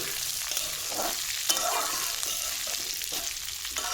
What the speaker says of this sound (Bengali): আর ডালটা মোর ভাজা হয়ে যাবে